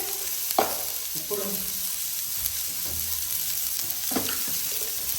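Chicken Hakka noodles stir-frying in a hot pan give a constant close sizzle, with intermittent scraping and clatter of stirring throughout.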